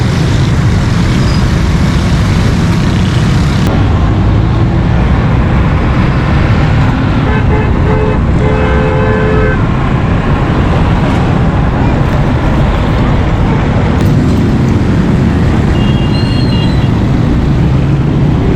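Jammed road traffic near roadworks at a broken bridge section in Baloch Colony, Karachi, with loud continuous engine rumble and several short horn toots through the middle and end.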